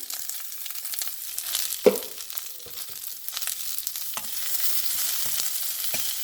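Beans sautéing in oil on a medium flame, a steady close sizzle broken by a sharp utensil knock and repeated scraping stirs against the pan.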